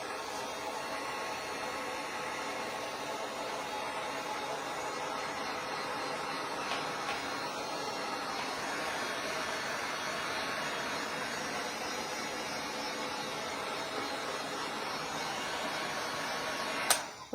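A hair dryer runs continuously while drying a damp tag in a cool basement, giving a steady, even whooshing roar that holds at a constant level for the whole stretch and then cuts off with a brief click at the end.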